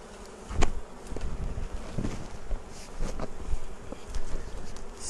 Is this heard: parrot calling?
no